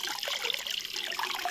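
Water trickles back from a DIY pool water heater in a steady, close, bubbling dribble that never stops, with no talk over it.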